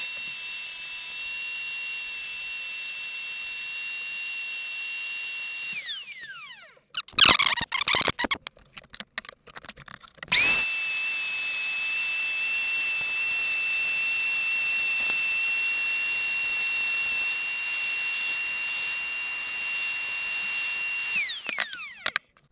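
A plant pot spun on an improvised power tool gives a steady high motor whine, with a loud clattering burst in the middle before the whine resumes and runs steadily, then stops.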